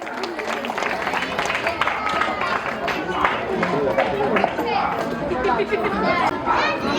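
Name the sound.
applause at Shivaji Jayanti school celebration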